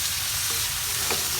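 Native chicken pieces dropped into a hot pan with browning ingredients, giving a steady, close frying sizzle with light stirring scrapes throughout.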